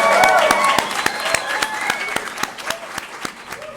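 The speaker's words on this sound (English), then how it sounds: "Big round of applause." An audience claps loudly at a Nasdaq Stock Market closing bell ceremony, with dense applause that gradually thins into scattered individual claps.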